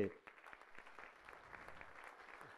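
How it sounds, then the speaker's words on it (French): Light, scattered clapping from a small group at the inauguration of a race headquarters in Boulogne-Billancourt, soft and somewhat distant, with a faint voice briefly underneath at the start. "Donc on peut applaudir aussi"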